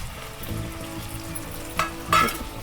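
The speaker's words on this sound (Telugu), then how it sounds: "అందుకే ఇట్లా నూనెలో ఒకసారి ఇట్లా ఫ్రై చేసుకోవాలి" Taro (chamagadda) pieces frying in hot oil give off a steady, soft sizzle and bubbling, with a couple of brief sharper stirring scrapes toward the end and no voices.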